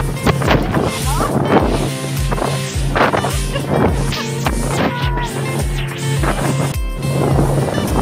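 Speed boat racing over the open sea off Bahrain's Al Dar Islands: constant roaring engine and wind buffeting with rhythmic slaps and thumps as the hull bounces on the water, loud and close throughout.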